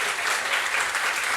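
A church congregation claps in welcome for a guest, a Brazilian professional footballer, with dense, even applause throughout a brief moment.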